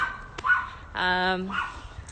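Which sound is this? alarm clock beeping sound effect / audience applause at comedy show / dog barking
dog barking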